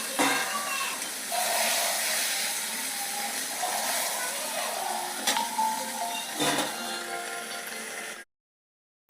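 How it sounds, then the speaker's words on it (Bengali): Pieces of rohu fish sizzle in hot oil in a pan, making a steady, close hiss with small crackles and a few clinks. The sound runs for about eight seconds and then stops abruptly. "এগুলোকেও লাল করে ভেজে নেবো"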